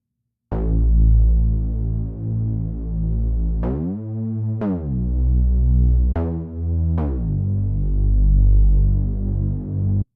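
A deep Reese bass synth patch built in Serum holds a thick, throbbing low drone, with an LFO wobbling its pitch. Several sustained notes change at sharp transitions, and it plays alone without any voices.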